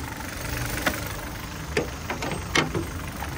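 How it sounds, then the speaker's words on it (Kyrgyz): A Kia Ceed with an automatic gearbox idles steadily at close range, its low, even engine hum broken by a few sharp clicks and taps. No one speaks. "Мотору чөткө от алып турат"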